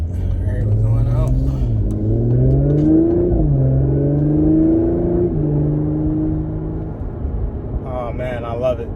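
An Audi S5 Coupe engine revs up steadily with a rising, droning whine, shifting automatically and climbing again, heard from inside the car.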